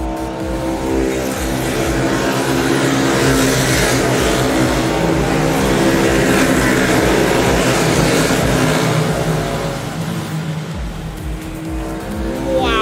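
Racing karts at a club championship roar down the main straight, a loud continuous engine drone with rising revs and overlapping passes, staying close and strong throughout.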